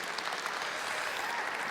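A congregation applauds warmly to celebrate a daughter's recent wedding, a short, even wash of many hands clapping at moderate distance with no speech over it.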